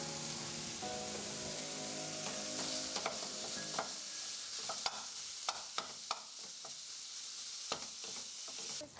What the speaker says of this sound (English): When the onion is transparent, add minced beef and stir.